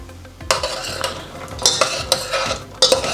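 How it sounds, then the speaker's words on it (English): Walnuts stirred into a very hot caramel mixture in a pan, giving repeated close scraping and clinking of a spoon against metal over a light bubbling sizzle. "Now I'm going to add my 100 grams of walnuts."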